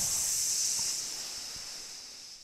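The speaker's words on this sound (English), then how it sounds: "That was the sound of my ship getting singed." A ship getting singed in the Final Fantasy X video game gives a soft, steady airy hiss that slowly fades over a couple of seconds, with faint low thumps underneath and no voices.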